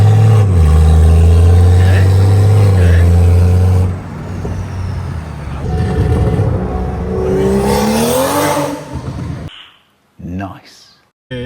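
A BMW M2 engine revs loudly up close with a deep droning rumble, then drops away and climbs again in a rising rev before cutting off abruptly, with people talking around it.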